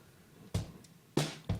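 Drum kit picked up by a distorted trash microphone, played louder: three sharp, crunchy hits with broadband splashes, spaced irregularly over a quiet background.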